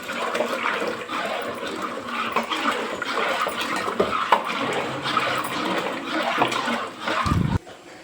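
A sago mixture pours into water while being stirred, a continuous watery rushing and swirling, moderately loud and close, with a short dip near the end and no speech.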